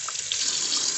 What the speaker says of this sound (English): you're going to bring this over to the sink and rinse it